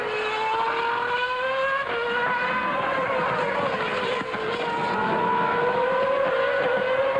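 Formula 1 cars at Imola during the 2006 San Marino Grand Prix scream steadily at a distance, engine pitch rising through the gears with brief dips at shifts, over a constant roar.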